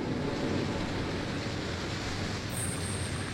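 A video game waterfall gives off a steady, full rushing roar that never lets up, with a faint high tone coming in near the end and no speech.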